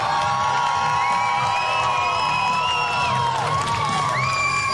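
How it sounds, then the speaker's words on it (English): Arena crowd at Mohegan Sun cheering and whooping during a BKFC bare-knuckle fight weigh-in, a dense, continuous roar with high shouts and whistles rising over it throughout. "Listen to the Mohegan Sun crowd!"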